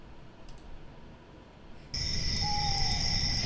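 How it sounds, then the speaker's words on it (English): An owl hoots as an ambient sound in the Koikatsu map editor, a soft gliding call that rises over a steady bed of high, insect-like chirping after a sudden jump in background level. "And we're going to use the owls."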